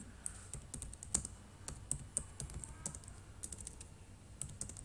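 Quiet, steady typing on a computer keyboard, with irregular key clicks tapping along and no talking.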